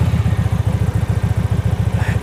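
Archive Motorcycle AM Blackpearl Shiny Black, a liquid-cooled custom motorcycle, idles close by with a loud, rhythmic, evenly pulsing low throb that holds steady through the whole stretch.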